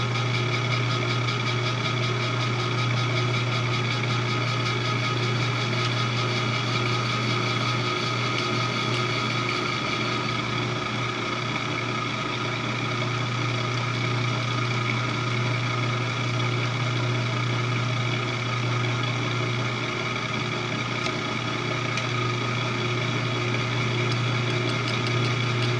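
Steady mechanical drone from a milling machine running during offset turning on an Acra mill bracket, with constant gear noise and a layered whine holding level for the whole stretch, fairly loud and close, no voices.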